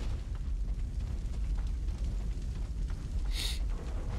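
Fire burns in the Peter Jackson's King Kong video game as a steady, noisy crackling roar that holds throughout, with a brief bright burst near the end.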